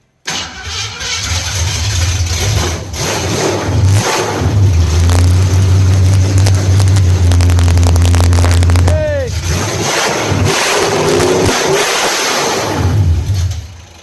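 Car engine cranking and catching, then running loudly up close with rising and falling revs, people talking over it.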